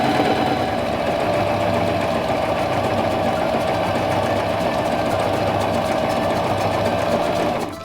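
A SINGER mechanical sewing machine stitches a straight, tight seam, its loud, fast, even mechanical hum and clatter running continuously close up before stopping at the end.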